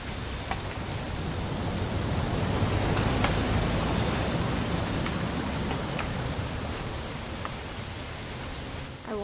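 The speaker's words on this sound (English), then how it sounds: "It's gonna rain the whole weekend, isn't it?" Video game rain: steady, dense rainfall hissing evenly throughout, with occasional louder drops pattering on a surface; no voices.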